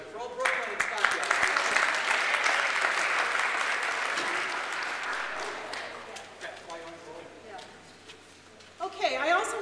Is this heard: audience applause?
yes